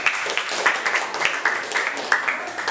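Short bursts of classroom clapping for a student's answer during an Indonesian poetry lesson, several uneven claps close by at moderate loudness, with some voices mixed in.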